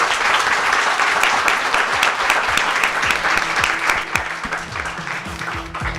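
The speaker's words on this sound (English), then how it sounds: "Let's have a round of applause for our panel." Audience at an evening panel discussion event applauding the panel, a sustained dense clapping close and loud throughout, with faint crowd murmur underneath.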